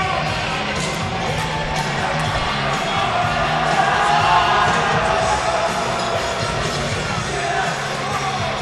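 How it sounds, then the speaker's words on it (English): A full crowd cheers and roars steadily in a gym at a boys' varsity volleyball sectional semifinal as the players take the court, a loud, dense wall of whoops and shouting that swells slightly midway. "Players take the court as we got a full crowd tonight."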